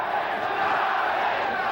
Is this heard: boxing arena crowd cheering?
yes